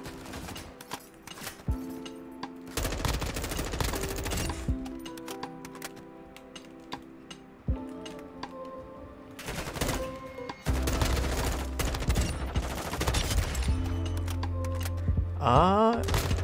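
Bursts of gunfire from Call of Duty: Modern Warfare 2, rapid automatic volleys separated by short pauses, with a sustained stretch of firing near the end and game effects mixed in.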